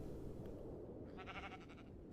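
A sheep bleats once in the mountains, a short wavering call partway through, faint over a steady rush of wind.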